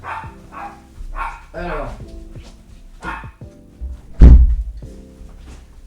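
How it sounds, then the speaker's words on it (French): A pet dog barks in a home with a door nearby, one sharp loud bark cutting through someone speaking French close up. "Mon chien qui aboie"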